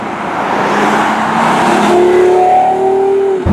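A Porsche Carrera GT engine revs hard from the cabin, a loud rising roar that climbs in pitch and then cuts off sharply at the end.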